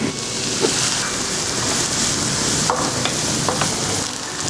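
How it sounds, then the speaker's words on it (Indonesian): Steady, close sizzling of onions and spring onions frying in hot oil, with occasional stirring clicks and scrapes against the pan. "Pertama kita akan tumis bawang bombay dan juga daun bawang."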